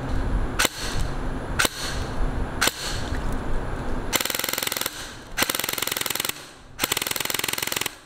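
A G&G Type 64 BR airsoft gun on an 11.1 LiPo fires rapid full-auto bursts of about 20 BBs a second, close and loud, first as sharp single shots, then three long buzzing strings of fire.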